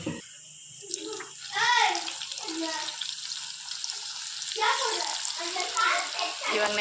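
Okra (lady finger) bajji frying in hot oil gives a bubbling, crackling sizzle that swells and fades in waves, with a person talking over it.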